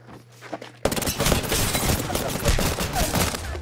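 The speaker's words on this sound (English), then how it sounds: "just hearing fucking gunshots" A dense, loud burst of rapid gunfire in the video game Apex erupts after a brief quieter moment, continuing as a sustained volley of shots.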